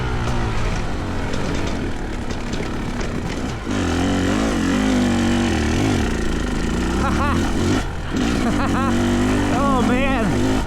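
Dirt bike engine, either a Fantic XE300 or a KTM 300XC-W, running loud and close with a continuous rough drone and rising and falling revs, briefly dipping around the middle and again later.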